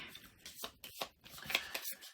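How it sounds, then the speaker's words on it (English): Board game cards are shuffled by hand at close range, bursts of soft papery riffling and flicking in an uneven rhythm, fairly quiet, with no talking. "if you want to give those the closed doors a shuffle, I'll give the furniture a shuffle"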